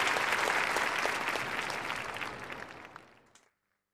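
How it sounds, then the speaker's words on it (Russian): An audience at an adult ballet studio's recital concert claps in loud, dense applause that tapers off and stops after a few seconds. "Ваши овации!"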